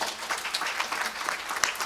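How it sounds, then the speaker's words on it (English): An indoor audience bursts into loud, sustained applause at a guru's birthday celebration at a gurukula, with many hands clapping densely and steadily throughout. "Let's give him a round of applause if you agree with that."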